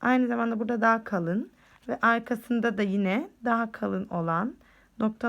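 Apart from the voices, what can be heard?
No everyday noises stand out.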